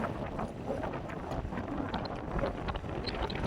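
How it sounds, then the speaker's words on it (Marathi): Strong wind buffets the microphone at a hilltop viewpoint in rainy season, a loud, continuous rumbling roar with gusty fluctuations throughout. "मित्रांनो हवा खूप आहे आणि आम्ही थोडं वर आलोय."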